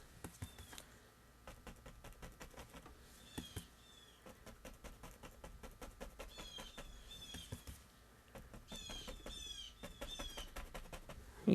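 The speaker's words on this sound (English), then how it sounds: "You can probably hear more birds going." Birds chirp and twitter in the distance over a steady background of rustling and tapping from a brush painting a landscape, with bright short calls repeating throughout.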